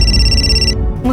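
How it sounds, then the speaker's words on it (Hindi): A telephone rings in a hospital setting with a steady electronic tone that cuts off partway through, followed by a brief low voice. "फोन भी पीछा नहीं छोड़ते।"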